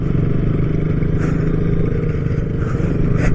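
A motorcycle on an Independence Day ride toward Lyngksiar Falls near Cherrapunji, Meghalaya, giving a loud, steady low engine drone with wind rush and light clatter, close up and continuous, no talk.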